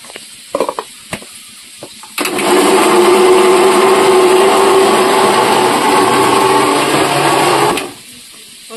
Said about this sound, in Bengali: আমি ওইদিকে মিক্সচারে ওগুলো গুঁড়ো করে নেব